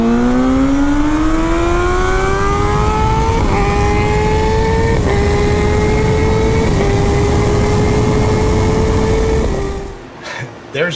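A Kawasaki Z H2 motorcycle, flashed by Brock's Performance and BT Moto, roars loudly and close in a roll-on, its engine note climbing through several quick gear shifts before abruptly cutting off.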